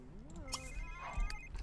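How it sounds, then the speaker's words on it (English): A phone ringing in The Sims 3 Pets, a short electronic ringtone with a rising and falling melodic tone, heard clearly at moderate level over quiet game background. "Why are all your phones ringing?"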